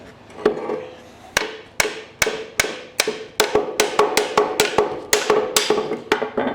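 Hammer blows strike a seized part on an M2 Cletrac crawler tractor during teardown, a dozen or so sharp metallic knocks, sparse at first then quickening into a steady close rhythm.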